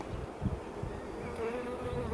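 Agitated honeybees buzz around an opened hive during an inspection after a hard winter, a steady close drone with a brief louder swell, no voices.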